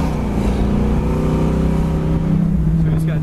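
A 1968 Chevrolet Camaro convertible cruises in second gear at about 3,000 RPM and 35 mph, its engine holding a loud, steady drone throughout while someone talks over it.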